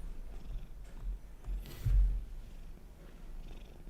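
A house cat purrs in a soft, continuous low rumble, close but quiet, swelling slightly midway with no voices over it.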